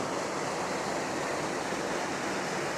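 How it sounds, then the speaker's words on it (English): A waterfall feeding a large swimming hole on Mount Lemmon's Pusch Ridge, a constant dense rushing roar of falling water, loud and unbroken, with no voices. "There's like a waterfall feeding it over here."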